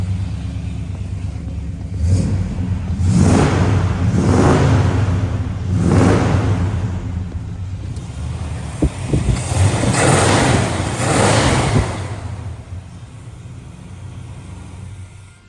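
A stock-looking 1970 Chevrolet Chevelle's engine runs nearby, rumbling at idle and swelling into several deep revs and surges before settling again.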